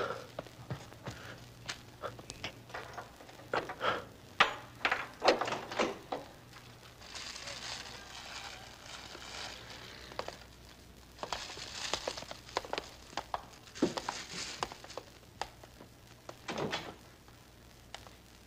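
In a Filipino drama scene, a door is unlatched and opened amid thuds, knocks and shuffling footsteps, the handling sounds scattered over a low room hum.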